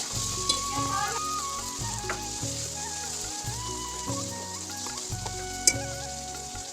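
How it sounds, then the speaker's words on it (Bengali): Luchi, puffed flatbread, deep-fry in hot oil, giving a steady close sizzle and crackle while a low rhythmic hum runs beneath. "মা লুচিগুলো বেলে নিয়েছে এবারে ছেঁকে নিচ্ছে"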